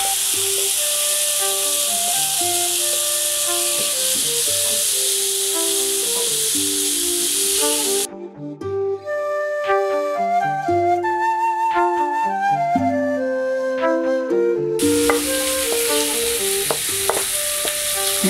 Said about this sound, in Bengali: আলুগুলো আমি যতটুকু সম্ভব ভেজে নিয়েছি।